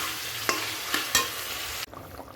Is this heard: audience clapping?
no